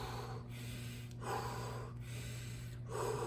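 Deep breaths drawn in and pushed out by a person lifting a weight in a gym, four slow rhythmic breath cycles, close and fairly quiet over a steady low background hum.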